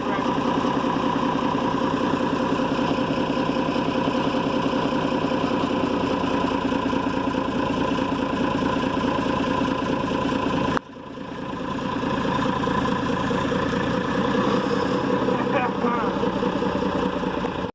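The engine of a Unimog FLU419 military utility truck runs steadily at a loud, close idle during a rescue attempt, then dips abruptly and picks back up, while people talk in the background.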